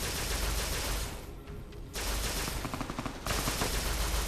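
Rapid bursts of gunfire in the game Fallout New Vegas, a fast crackling string of shots, a short lull, then more dense volleys that stay loud and continuous.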